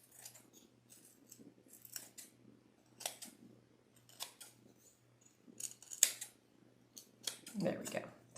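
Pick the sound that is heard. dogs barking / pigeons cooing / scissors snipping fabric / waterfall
scissors snipping fabric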